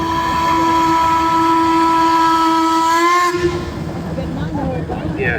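A steam engine's whistle blows loud and sustained for about three seconds, then cuts off, leaving the rumbling hiss and clatter of a passing steam train close by.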